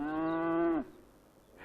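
A domestic cow gives a single clear, steady moo lasting under a second, close and alone, then falls silent.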